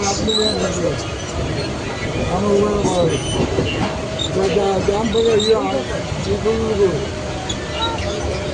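A Mumbai suburban local train rolling past, a steady rumble with clattering wheels and occasional squeals, heard nearby beneath people talking.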